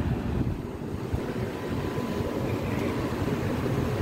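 An HVAC condenser unit runs outdoors with a steady low rumbling drone and broadband whooshing fan noise, close and constant, with no talking.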